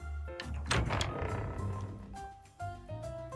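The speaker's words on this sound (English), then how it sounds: "Seeing my hesitation, she shrugs and opens the door." A door opens in the Love and Deepspace game with a solid thunk and a brief creaking slide, heard over soft background music.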